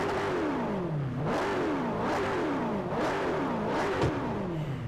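An old car's engine revs in Forza 4 in a run of repeated rising and falling surges, about five climbs in quick succession, loud and close with gear-change dips between them and no talking.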